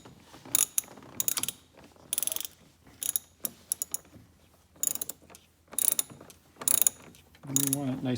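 A hand ratchet on an extension tightens the battery hold-down in a 2018 Toyota Sequoia, with quick bursts of clicking strokes separated by short pauses, close and fairly quiet.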